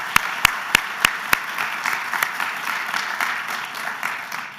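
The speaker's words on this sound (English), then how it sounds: "Let's have one more round of applause for all our presenters." A university audience applauds its presenters at an Ohio University update meeting, opening with a few sharp, loud individual claps before settling into a steady wash of clapping.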